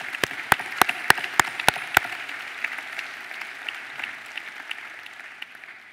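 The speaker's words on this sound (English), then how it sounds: "it's a big applause now for you all that you came here" Several sharp, loud claps ring out near at first, then softer audience applause at a media conference opening speech continues and gradually fades away.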